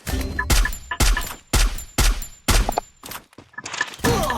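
Gunfire in the mobile battle game Free Fire rings out as a loud run of heavy shots, spaced about half a second apart, each with a ringing tail, ending in a rougher burst.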